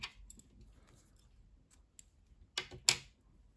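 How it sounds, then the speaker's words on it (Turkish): Scissors snipping crochet yarn after a baby sock is finished, a couple of sharp close clicks near the end following faint handling noises, otherwise quiet. "İpliği kesiyorum."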